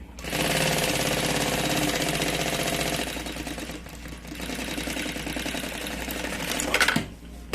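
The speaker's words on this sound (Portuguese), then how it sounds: "eu faço uma costura em volta todinha. Bem na beiradinha." A sewing machine runs in fast, even bursts while stitching around the edge of a fabric pencil case, a steady mechanical chatter that pauses briefly midway and stops near the end, close by with no talking.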